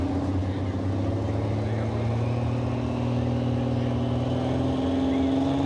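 A truck pull at Mooresville Dragway, with a pulling truck's engine droning steadily and loudly throughout, a sustained low roar with rising harmonic tones, heard alone.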